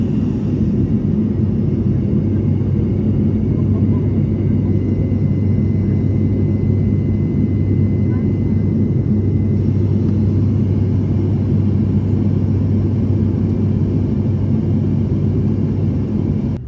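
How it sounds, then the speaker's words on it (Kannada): IndiGo passenger jet descending to land at Bengaluru airport, heard from inside the cabin as a loud, continuous low engine rumble and airflow roar that holds steady throughout. "ಈಗ ಲ್ಯಾಂಡ್ ಆಗತ್ತೀವಿ ನಾವು"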